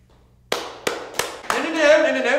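Three sharp, separate claps land about a third of a second apart, and then a short burst of fuller clapping follows. The claps follow a near-silent opening and ring out close and crisp.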